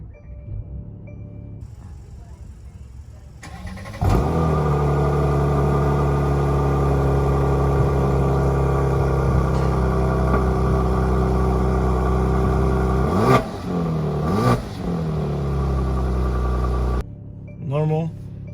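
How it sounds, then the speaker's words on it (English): A 2021 Mercedes-AMG C43 is started, its engine catching with a sharp flare and then settling into a steady, loud exhaust drone with low rumble, a brief blip of revs near the end before shutting off. "You just put your foot in the brake and you start the car, and the exhaust sound like this."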